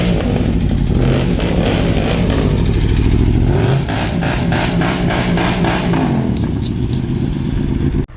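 A motorcycle engine idles loud and close while standing alone, running steadily with a throaty, rhythmic chug and a small shift in tone midway.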